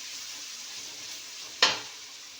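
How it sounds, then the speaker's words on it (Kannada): Rice bath cooks in a pan with a steady, close frying sizzle, broken once by a single short scrape as a spoon stirs through it. "ಚೆನ್ನಾಗಿ ತಿರೋಬೇಕು."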